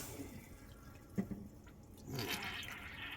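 A household toilet, just repaired after a clicking fault, flushes and its tank refills: a faint, distant rush of running water with a few small knocks, then a swelling hiss of refilling toward the end.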